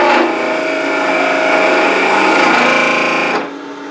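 A power drill whirs steadily and loudly for about three seconds, then stops abruptly, leaving a faint hum.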